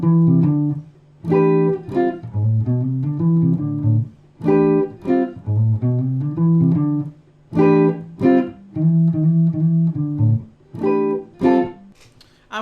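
The opening eight bars of a tune played on guitar: a bass-register call phrase answered by short two-note chord stabs, repeated in a steady pattern, clear and solo.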